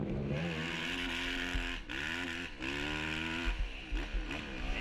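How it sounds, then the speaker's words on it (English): A Yamaha ATV engine revs hard and high during a GNCC off-road race, the pitch climbing and dropping as throttle is blipped, with brief dips between bursts, fairly distant. "You hear Neal revving that machine out"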